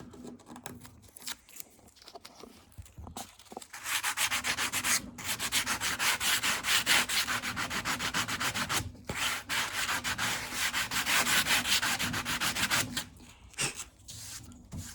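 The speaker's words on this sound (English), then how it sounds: "I'm going to take some 120 now. And we're just going to sand this bit here." Sandpaper of 120 grit rubs over body filler on a Porsche 914 rocker panel, a steady, close scratchy rasp in long continuous strokes that builds after a few quiet seconds and runs with brief pauses.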